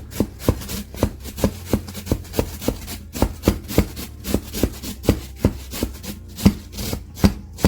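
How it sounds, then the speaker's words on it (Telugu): Bottle gourd grated by hand in a brisk, even rhythm of roughly two strokes a second, each scrape close and crisp, without talk. "ఇక మనము దీన్ని తురుముకోవాలి గైస్"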